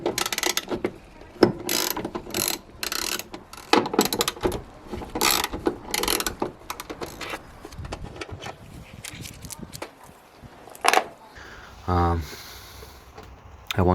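A hand ratchet undoes the bolts on a BMW E46 air box, giving sharp, close clicking strokes in uneven bursts with quieter handling noises between them.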